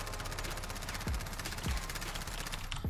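Submachine gun hip-fire in Call of Duty Warzone, a fast rattling burst of rapid shots over the whole stretch, with a few heavier thumps standing out, fairly quiet.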